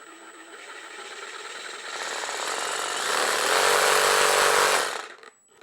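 A Makita 18V LXT sub-compact brushless reciprocating saw runs close by with no cutting, a buzzing motor whine that climbs in pitch and loudness as the speed is raised, then winds down and stops.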